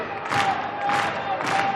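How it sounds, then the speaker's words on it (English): German supporters cheer at an indoor hockey World Cup quarterfinal against Poland, a steady crowd roar that swells in three rolling surges over a couple of seconds, moderately loud and carrying through the arena. "The German crowd trying to encourage a hard line of defence."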